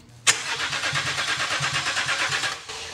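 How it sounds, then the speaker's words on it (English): A rebuilt Range Rover Sport engine, fitted in an engine swap, cranks over on the starter with a sharp onset and a steady rhythmic churn of compression pulses for about two seconds, then cuts off. "This is the moment we find out, will this engine crank, or has Liam and his family wasted the last"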